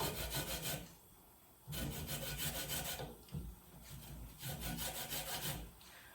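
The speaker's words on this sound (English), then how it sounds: "And we're going to get our little grater out and do some of the orange zest in here." Small mandarin orange rubbed over a little hand grater for zest, heard as rhythmic, close rasping strokes in bursts with a brief pause between, loud and alone without talk.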